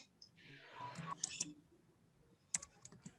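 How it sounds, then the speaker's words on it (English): Computer keyboard typing during an online English class: a quiet run of soft key clicks with a few sharper taps, faint and close, with low background hiss. "Okay, start typing."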